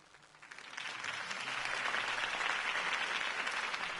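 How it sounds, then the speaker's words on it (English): Applause from a campaign rally crowd after a political speech, starting soft and quickly swelling into a full, steady roar of clapping that holds to the end, heard from some distance. "could have heard that applause"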